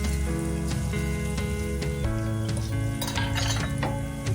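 Finely chopped green chilies and carrots sauté in a pan, giving a continuous sizzle with repeated scraping and stirring clinks over steady background music.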